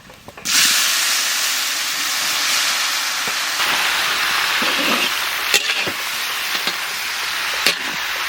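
Dried red chillies and whole mustard seeds hit hot mustard oil for tempering in a village kitchen, giving a loud, steady sizzle close up, with small pops and crackles breaking through near the end.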